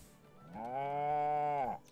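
A calf on a farm lets out a single drawn-out, tonal bawl lasting about a second, clear and fairly close with little else around.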